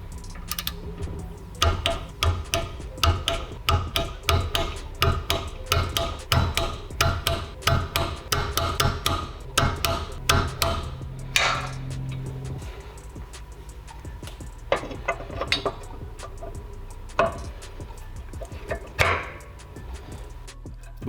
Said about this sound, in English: Oil the rod bolts and torque them to 150 inch-pounds.